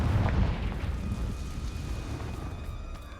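A blasting spell explodes in the Hogwarts Legacy video game near an Acromantula cave, a deep, rumbling boom that fades into a long, low roar with no voices over it.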